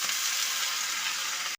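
Slit green chillies and bottle gourd hit a hot pan, producing a loud, dense, hissing sizzle that holds steady for about a second and a half before cutting off abruptly.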